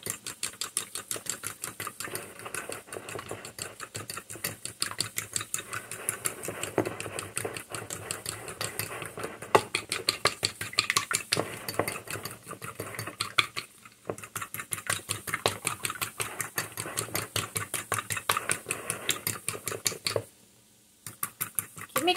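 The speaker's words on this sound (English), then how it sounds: "Mix everything together." Egg pie mixture being stirred together with garlic powder and salt, a steady rapid clatter of a utensil against the bowl running continuously with brief pauses near the end.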